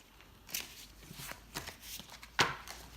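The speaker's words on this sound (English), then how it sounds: "please take these cards in your hands and shuffle them" Tarot cards are shuffled by hand during a reading, giving a few soft riffling and slapping bursts with one sharper snap near the end, quiet and close with no talk.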